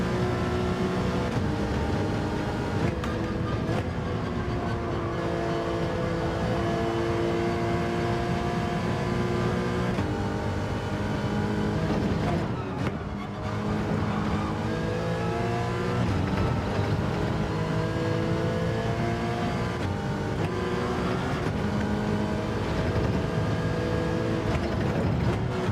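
Race car engine roaring steadily through a qualifying lap in Gran Turismo on PSVR2, loud and continuous with rising and falling revs as gears shift, sustained throughout without talk.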